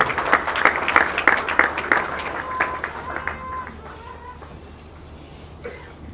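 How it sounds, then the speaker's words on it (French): Audience applause at an official group launch event, loud at first with distinct claps, then dying away into quiet room noise with faint voices. "Vos applaudissements, s'il vous plaît."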